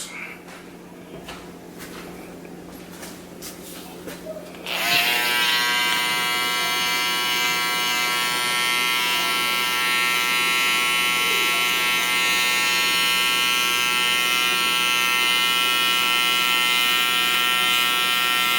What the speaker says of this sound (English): So now let's go with the Andis cordless T-outliners.